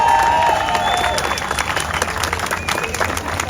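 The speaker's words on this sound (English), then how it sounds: "could I please get a round of applause?" Crowd applause at an outdoor political rally for democracy, a steady wash of clapping with some cheering, loud and continuous throughout, with a brief tone and voices mixed in at the start.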